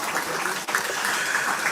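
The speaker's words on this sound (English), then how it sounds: "a round of applause for me, please" An audience at the official opening of a community safety centre applauds former Prime Minister Stephenson King, a steady, dense clapping that continues evenly throughout.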